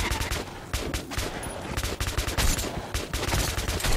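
Rapid gunfire from the video game Metro: Last Light, dense bursts of shots crackling in quick succession for several seconds, loud and continuous with no pauses.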